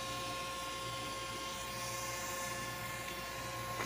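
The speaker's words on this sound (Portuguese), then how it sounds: "O drone tá aí." A drone hovers overhead at night above a cemetery, giving a continuous high-pitched buzzing whine over steady background noise, with no clear speech.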